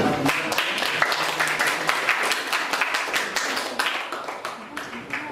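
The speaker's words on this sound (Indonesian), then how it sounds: "Tepuk tangan dulu." Students in a classroom clap their hands together, a fairly loud cluster of quick, overlapping claps that keeps up steadily for several seconds and ends with no talk.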